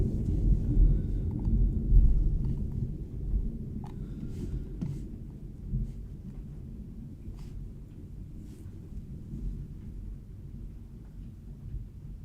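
Deep, rolling thunder from a severe thunderstorm in Ohio rumbles continuously, loud at first and then fading to a distant growl, with no voices.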